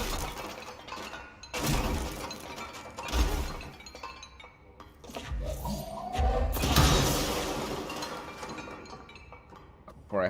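In the video game Control, objects are smashed and shatter in bursts of crashing glass and debris, several loud impacts separated by clinking, scraping fragments, close and without talk.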